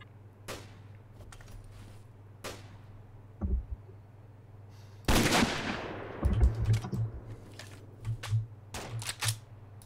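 Gunfire in DayZ Overpoch, sharp isolated shots spaced apart early on, then a loud burst of rapid fire followed by more scattered cracks, close and punchy against a low steady hum.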